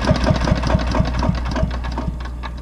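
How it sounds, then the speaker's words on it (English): A lawn mower engine with the choke on sputters and turns over in a fast, uneven knocking rhythm, loud and close with no speech. "so I'm going to try to start it a few more times here with the choke on"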